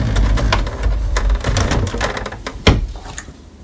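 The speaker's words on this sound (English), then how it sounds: "Close the ink access door." The ink access door of an HP OfficeJet Pro printer is pushed shut, with plastic clicks and rattles ending in one firmer close-up snap.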